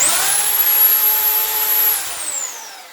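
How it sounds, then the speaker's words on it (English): A Bormann BPH4500 Pro SDS Plus hammer drill, drilling without hammer action, whines steadily at high speed for about two seconds, then winds down as it stops. "it will drill only without hammering"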